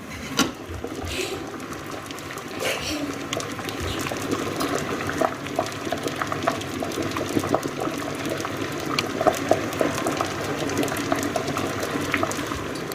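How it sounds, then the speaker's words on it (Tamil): Jaffna odiyal kool, a thick porridge, bubbling and simmering in a large pot, a steady low burble of boiling liquid with scattered pops and faint clinks throughout. "கூழ் எல்லாம் கொதிச்சு கொண்டு இருக்கு"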